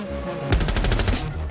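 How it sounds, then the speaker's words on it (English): Rapid automatic gunfire rips through a floor in the tactical shooter Rainbow Six Siege, a loud, fast burst of evenly spaced shots lasting under a second and ringing out over a low background. "He's shooting through the fucking floor."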